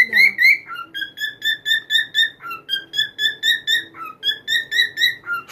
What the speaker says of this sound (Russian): Поют попугайчики.